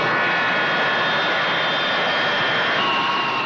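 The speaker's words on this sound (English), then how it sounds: "These Impala are Italian planes, produced here under special license." Impala jet aircraft, an Italian design built under licence and powered by British Rolls-Royce engines, giving a close, loud and continuous jet roar with a hissing edge throughout.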